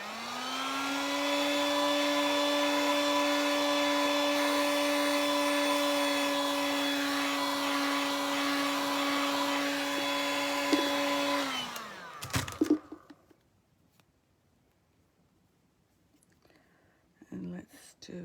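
A heat gun warms a WoodUBend decoupage piece on a wooden footstool, giving a steady, loud whining blow for about twelve seconds before cutting off, followed by quiet handling noises.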